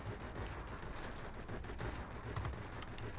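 Aircraft cannons fire in the video game World of Warplanes, from an IL-10 ground-attack plane, as a dense, continuous burst of rapid shots that runs the full length at steady loudness, with no talking.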